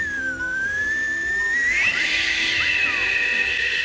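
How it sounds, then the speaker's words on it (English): A thin, high whistle glides upward and holds a steady pitch, with a breathy, hissy edge. It sounds close and runs on its own without talking. "I whistle with my teeth, though."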